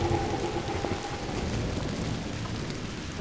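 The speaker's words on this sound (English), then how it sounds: "Here comes the rain." Steady rain falls outdoors during a thunderstorm with some lightning nearby, a dense continuous wash of drops with low rumbling underneath, loud and unbroken for three seconds.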